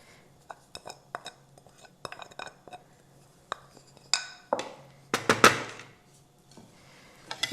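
Dressing is stirred into a bulgur tabbouleh salad in a bowl, a spoon giving sparse, irregular clinks and taps against the dish that grow louder and denser toward the end.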